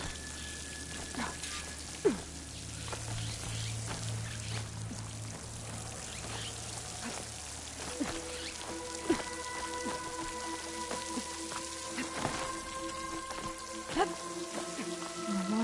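Water flowing steadily in a Horizon Forbidden West game scene, a continuous soft pouring wash under sustained musical tones, with a few faint clicks.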